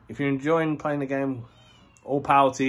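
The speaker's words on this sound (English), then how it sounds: "You can hear my cat in the background." A pet cat meows repeatedly during a gaming channel update, several drawn-out, tonal cries at moderate volume running alongside a man's speech.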